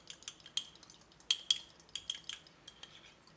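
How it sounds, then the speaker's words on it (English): Eggs and vanilla whisked in a small ramekin for American sugar cookies, heard as quick, light metal-on-ceramic clinks and taps in an irregular run, close and fairly quiet, with no talking. "I'm just going to quickly whisk these together"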